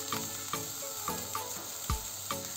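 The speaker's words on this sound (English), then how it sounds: "Add in 2 tablespoons of olive oil. Stir fry it for about 5 minutes." Vegetables stir-frying in olive oil in a pan, a steady soft sizzle with periodic light scrapes and clinks of stirring, fairly quiet and close.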